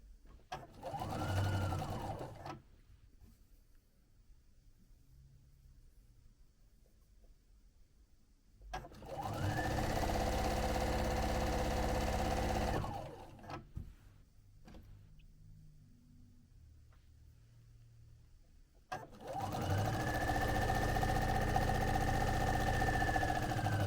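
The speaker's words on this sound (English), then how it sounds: "Set my machine for needle down position, and just stitch that right down the center." Sewing machine in needle-down mode stitching a stripe down the center of a striped chenille pillow, running in three loud, steady bursts with quiet pauses between them and no talking.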